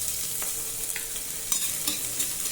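Cloves and cinnamon fry in a pan for vegetable biryani with a steady, close hiss, broken by a few light scrapes and taps of a stirring spoon and no voices.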